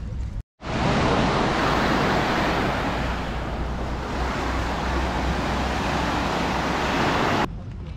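A large, long sandy beach on Crete in Greece, with a steady roar of surf and wind buffeting the microphone, loud and continuous after a brief dropout at the start.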